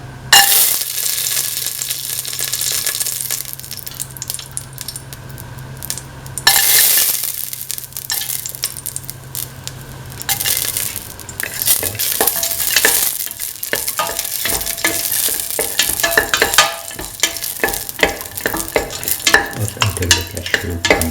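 Cashews frying in a hot pan for a sweet beaten rice, banana and dates dish, a loud continuous sizzle with frequent stirring scrapes up close and no talking.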